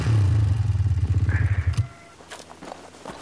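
Video game battle around a ship with motorcycles and tanks: a low, rumbling engine drone with rapid rhythmic pulsing runs loudly for under two seconds, then cuts away to scattered clanks and thuds.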